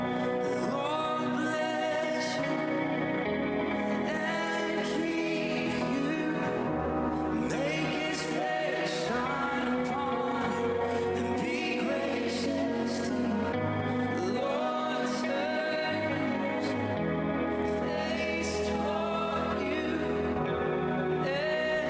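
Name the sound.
lead guitar with dotted eighth delay, reverb and chorus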